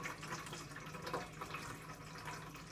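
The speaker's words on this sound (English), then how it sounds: "So to start off, we're going to pour water." Water pours steadily for kneading Kenyan chapati dough, a continuous soft splashing trickle into a bowl, fairly quiet and even throughout with no talking.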